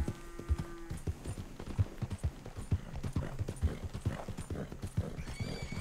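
Steady clip-clopping of horse hooves in the video game Red Dead Redemption 2, with a whinny near the start, the hoofbeats even and fairly close throughout.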